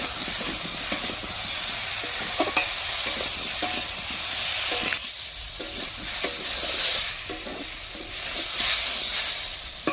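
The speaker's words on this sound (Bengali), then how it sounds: "দিয়ে ভালো করে কষবো।" Brinjal and potato stir-frying in a pan with turmeric and salt, a continuous hissing sizzle with frequent spatula scrapes and clatter, close and fairly loud, no talk.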